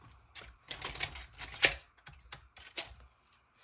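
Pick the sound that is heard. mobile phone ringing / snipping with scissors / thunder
snipping with scissors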